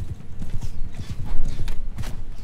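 Horse hooves clip-clop in a steady galloping rhythm with a whinny in Mount & Blade II: Bannerlord, close and loud amid battle clatter.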